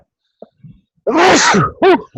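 A single loud, close sneeze bursts out after a few soft breaths, followed by a short vocal sound.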